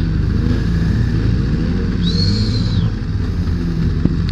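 Motorcycles ride past steadily at a busy motorcycle festival, giving a constant low engine rumble close by, with a brief high whine partway through and no talking.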